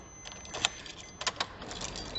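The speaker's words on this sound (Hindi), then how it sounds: "मैं ज़रा इग्निशन को ऑन कर देता हूँ" Keys jangle as the ignition of a 2021 Maruti Ignis Delta is switched on, with a few sharp clicks and rattles close by and a faint electronic tone holding steady underneath.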